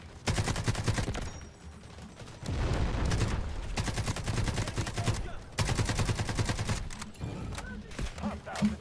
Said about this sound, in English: I don't know who's shooting me, bro.